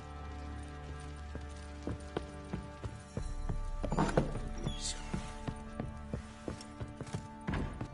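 A horse's hooves trotting in The Witcher 3, a steady clip-clop rhythm of hoofbeats at moderate volume over a soft musical background, with a brief snort midway.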